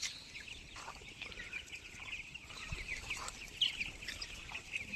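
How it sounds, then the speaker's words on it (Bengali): Twenty-day-old tiger breed chicks cluck and chirp faintly outdoors in open free-range air, with small scattered peeps over a steady background hiss. "এগুলো আপনারা দেখতেছেন টাইগার মুরগি।"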